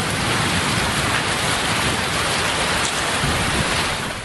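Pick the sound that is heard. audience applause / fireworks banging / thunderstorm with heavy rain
thunderstorm with heavy rain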